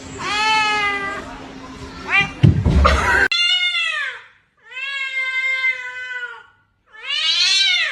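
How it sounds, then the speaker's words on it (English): A little kitten meows several times in drawn-out, rising and falling cries, close and clear with short pauses between, after someone speaks briefly at the start. "Look at this little kitten."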